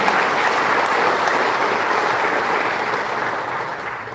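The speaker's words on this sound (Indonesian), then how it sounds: "tepuk tangan untuk teman-teman" A crowd applauds at a political declaration event for a 2024 presidential candidacy, with dense, sustained clapping for about four seconds that eases slightly toward the end.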